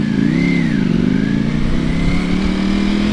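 Ducati V4 SP motorcycle with a dry clutch being ridden on the street, its engine droning loud and close with a steady rumble that rises and dips slightly as the throttle shifts.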